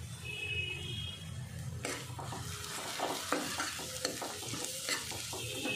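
Spices for rajma curry sizzle in hot oil while a spoon stirs them, starting as a steady fry and then breaking into repeated scraping strokes against the pan, close and continuous.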